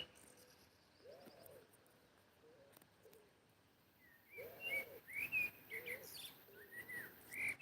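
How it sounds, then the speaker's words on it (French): A common blackbird sings outdoors in France, clear whistled phrases in a distant low passage early on, then a livelier run of bright fluting notes nearer the end, with no talk. "Un joli merle là."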